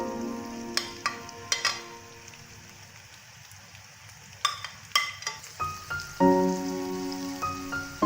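Three chopped onions fry with ginger and garlic in a pan for a chicken gravy, giving a steady soft sizzle broken by scattered sharp clinks and scrapes of stirring, with no voices.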